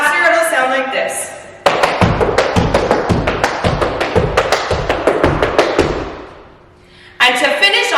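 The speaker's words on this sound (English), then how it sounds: "Now we're gonna do two more flap heels." Tap shoes strike a hard floor in a fast intermediate-advanced tap sequence of shuffles, heels and flaps, a steady run of sharp, close clicks and thuds lasting several seconds and ending in a brief lull before more taps resume.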